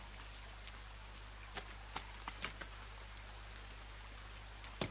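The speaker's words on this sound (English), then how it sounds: "It is raining." Soft, scattered raindrop taps in the video game The Forest over a quiet steady hum, drops landing irregularly and faintly throughout.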